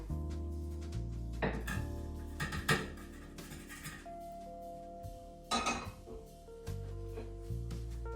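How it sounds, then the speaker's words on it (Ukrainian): Quiet clinks and scrapes of utensils against dishes as fried eggs are moved onto a plate, a few sharp knocks over soft background music, with no speech. "Готове яєчню перекладаємо у тарілку."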